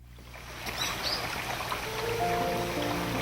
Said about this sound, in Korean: 청량한 물소리가 샘솟는 금정산 계곡